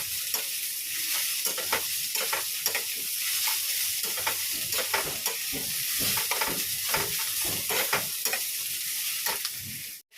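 Snake gourd (chichinga) fries in a pan on a narrow griddle with a constant bright sizzle. Frequent close scrapes and clicks of a spatula turning the slices cut through the sizzle, and no one speaks.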